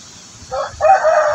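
A rooster crows loudly and close by in a short two-part call, with no talking; the flock includes heritage chicken breeds such as Rhode Island Red and Barred Plymouth Rock.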